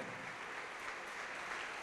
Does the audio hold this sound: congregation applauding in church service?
yes